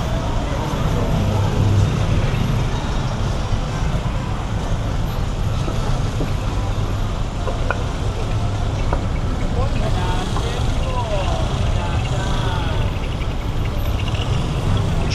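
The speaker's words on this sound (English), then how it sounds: "traffic is at a standstill, as per usual on Sukhumvit Road" Dense idling traffic jammed at a standstill on Sukhumvit Road in Bangkok at night, a steady loud rumble of engines with nearby voices talking over it throughout.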